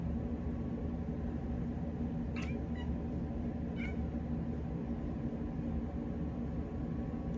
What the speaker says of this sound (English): But that's my cat.